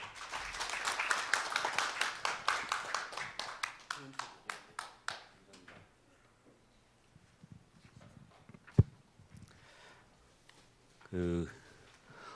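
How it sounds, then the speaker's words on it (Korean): A conference audience at Incheon National University claps in welcome, the applause loud at first and then thinning into scattered claps that fade out, leaving near-quiet with a few soft knocks and a brief rustle. "우리 조동성 총장님을 박수로 맞이해 주시기 바랍니다."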